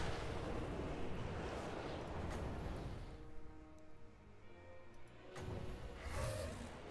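A dragon's fiery breath attack in a Total War fantasy battle, heard as a faint, broad roaring rush that swells, thins out midway, then surges again, with soft tonal game sounds underneath.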